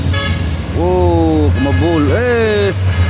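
A Hino truck sounding a horn on the road: a loud, wavering toot with a strong harmonic tone over steady engine and traffic rumble, in two longer blasts with a short break between them.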